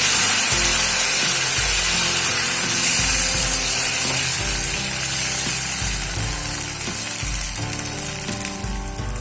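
Patishapta pitha batter poured into lightly warmed oil in a pan gives a steady, close frying hiss that runs the whole time, with a tonal background underneath.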